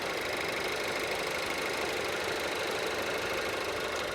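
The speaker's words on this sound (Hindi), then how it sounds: "कुछ इस टाइप का ये इंजन है, काफ़ी छोटा सा यूनिट है, ऐसे आइडियल कर रहा है।" A Mercedes GLA200 with a small 4-cylinder turbo engine idles with a steady, even hum and a faint ticking texture, recorded close and continuous with no voices.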